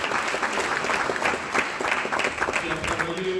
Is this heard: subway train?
no